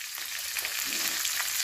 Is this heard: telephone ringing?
no